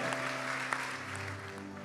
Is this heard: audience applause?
yes